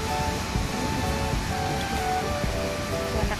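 Continuous broadband surf wash at Kuta Beach rolls steadily throughout, a dense roar of breaking waves with no clear pauses and no voices.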